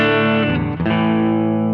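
A Quartz Source BV electric guitar through the clean channel of a NUX Cerberus pedal, EQ flat and reverb turned all the way up, rings out a sustained chord that shifts briefly midway and keeps ringing loudly.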